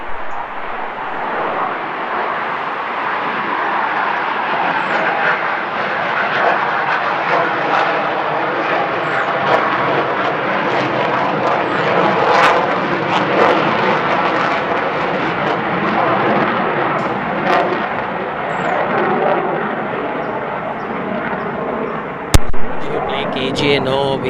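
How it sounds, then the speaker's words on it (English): Defense planes taking off from an airport next to a golf course roar loud and continuously for the whole stretch, with a sharp click near the end, and talk is partly masked underneath. "we do have a few defense planes taking off. That's the disturbance you guys just heard on your screen"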